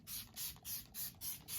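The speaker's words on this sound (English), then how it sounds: "We're just really getting in there with the setting spray today." Makeup setting spray misted in a quick series of six short, soft spritzes at an even rhythm, close and quiet.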